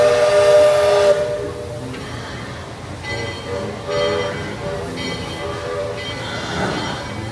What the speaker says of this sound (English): They're both dueling their whistles.